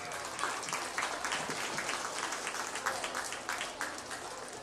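Sustained applause from a show-ring crowd after a livestock class at the Preston County Buckwheat Festival, a steady wash of many hands clapping at moderate distance, lasting throughout without speech.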